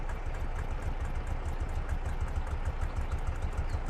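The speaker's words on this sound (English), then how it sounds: "wait for the engine to kind of heat up there." A vehicle engine idling and warming up in Farming Simulator 22, a steady low rumbling idle with even rhythmic pulses, close and continuous with no talk over it.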